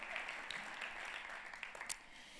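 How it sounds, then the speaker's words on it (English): Church congregation clapping together, a steady broadband patter of many hands with scattered sharper claps throughout, moderately close and with no talk over it. "would you mind clapping for that person sitting next to you and behind you"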